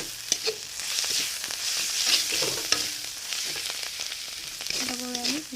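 Vegetables fry and sizzle in a pan with salt and turmeric as a spoon stirs them, giving a steady close crackle with scattered scraping clicks throughout.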